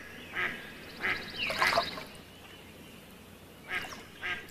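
Ducks quacking, several short nasal calls spaced irregularly with a brief cluster in the middle, fairly faint and slightly distant, no talking.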